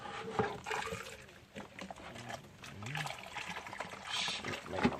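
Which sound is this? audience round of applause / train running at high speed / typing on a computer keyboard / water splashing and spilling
water splashing and spilling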